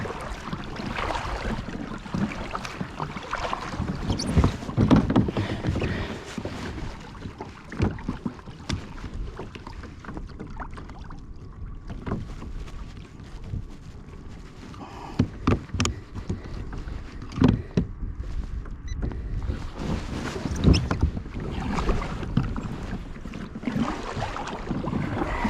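A kayak paddled on Folsom Lake during a spring fishing outing, with irregular paddle splashes and water swishes against steady wind noise on the microphone, close by and moderately loud.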